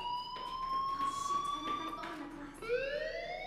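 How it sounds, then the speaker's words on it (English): School fire alarm in the video game Life is Strange, a loud rising electronic whoop that holds for over two seconds, then restarts with a fresh sweep, with faint voices and rustling underneath. "Hey, do you hear that fire alarm?"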